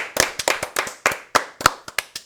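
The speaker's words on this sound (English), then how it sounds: "Let's give it a round of applause." A small group of hosts claps in a brief round of applause, with about a dozen sharp, close hand claps in a quick uneven rhythm.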